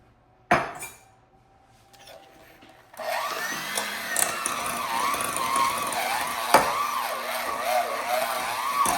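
A hand or stand mixer creams soft butter and sugar for a blueberry cream cheese coffee cake, starting after a brief clatter and then running as a steady whirring drone with slight wavering pitch, close and fairly loud, one sharp knock partway through.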